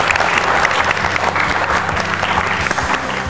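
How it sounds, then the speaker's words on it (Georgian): An audience at a televised school book quiz applauds Kutaisi Public School No. 30 with loud, dense, continuous clapping heard up close, holding steady and tapering slightly at the end. "აპლოდისმენტები კიდევ ერთხელ ქუთაისს"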